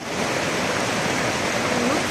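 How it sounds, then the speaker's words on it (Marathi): Steady broadband rushing of the Yamuna river flowing beside a mountain stop in rainy weather, a continuous close wash of water with no breaks. "आणि ही आहे यमुना नदी"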